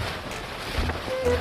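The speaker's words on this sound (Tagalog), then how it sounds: "Wind is very strong." Strong, gusty wind blusters outdoors in the UK, a steady rumbling roar with louder buffeting around the middle and end.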